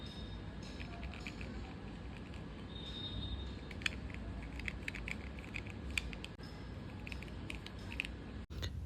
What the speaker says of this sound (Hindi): आपको ना मैं फेदर के पीछे की आवाज़ सुनाता हूँ